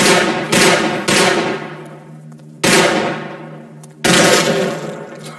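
Gunfire in the PC video game Amok Runner: three loud, close bursts of shots, each sharp attack ringing out and decaying, spaced about a second and a half apart, with no voices over them.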